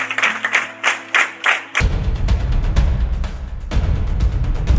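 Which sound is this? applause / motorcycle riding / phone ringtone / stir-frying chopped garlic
applause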